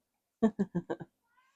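A cat gives a quick run of five short, close meows in a steady rhythm, followed by a faint, thin trailing cry in an otherwise quiet room.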